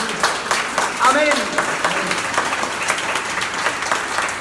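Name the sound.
congregation applause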